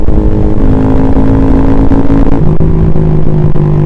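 Honda Grom motorcycle with a close-ratio 4-speed gearbox, its engine droning loud and close in a steady high hum, with pitch shifts as it moves through the gears.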